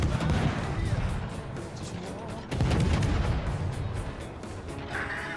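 Akizuki destroyer guns firing in the naval battle game World of Warships, a rapid series of loud booming shots with rumbling echoes, bursts repeating over a few seconds.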